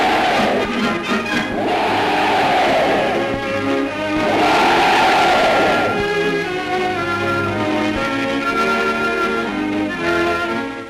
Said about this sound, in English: It was the 10th Army's turn to cheer the chief.